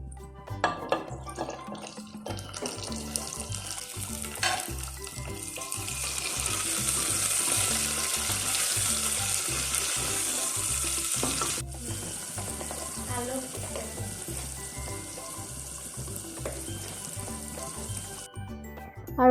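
Eggs go into hot oil in a pan for an Assamese home recipe and fry with a steady, close sizzle and crackle that lasts throughout, with faint stirring scrapes and no clear talking.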